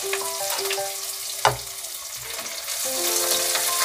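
Finely chopped onion sizzles and fries steadily in hot oil with bay leaf and whole cumin, with a sharp splash and crackle as it lands in the pan midway, over a faint tonal background hum.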